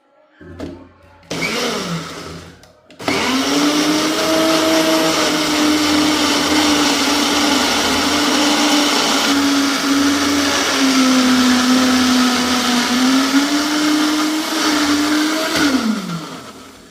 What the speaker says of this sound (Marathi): ही पेस्ट करण्यासाठी आहे ना, मी वापरत आहे अगारोचा रिगल पर्सनल 3 जार ब्लेंडर